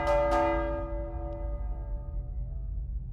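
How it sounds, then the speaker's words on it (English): A bell rung in the video game Mindlock, two quick struck tones that ring out with long, slowly fading resonant harmonics, clear and alone. "Guess we'll ring the bell"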